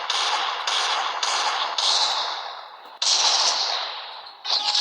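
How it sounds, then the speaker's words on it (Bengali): A gun fired in a video game, the weapon a Desert Eagle, heard as several loud sharp cracks, each trailing off into a fading ring, with one late shot near the end and no talking. "আর এখন আমি একে 1 বুলেটে একটা হেডশট মারবো"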